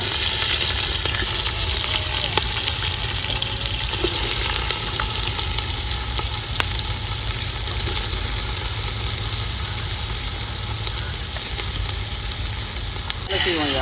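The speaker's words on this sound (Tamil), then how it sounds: "எண்ணெய் சூடாயிடுச்சு. இப்போ வெங்காயத்தை சேர்த்துக்கலாம்." Chopped onions hit hot groundnut oil in a large pot for mutton dum biryani cooked outdoors in a coconut grove, giving a loud, steady, close sizzle that holds evenly throughout, with faint clinks and a low background hum.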